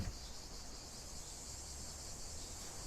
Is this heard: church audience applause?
no